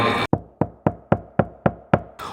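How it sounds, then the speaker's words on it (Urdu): Seven evenly spaced, sharp knocks on a wooden door, loud and close, follow a burst of noise, in a steady rhythm before the noise returns. "دروازے پر یوں کسی کے بجنے کی آواز آنے لگی"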